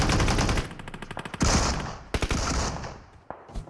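A DBS shotgun firing in a video game, with heavy booming blasts followed by sharp separate reports and a few quieter shots trailing off.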